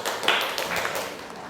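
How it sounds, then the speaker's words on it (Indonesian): A classroom of students claps for a classmate, a short, moderately faint patter of hand claps blended with a bit of voice. "Tepuk tangan buat Amena."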